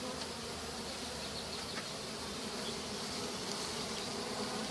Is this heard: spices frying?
no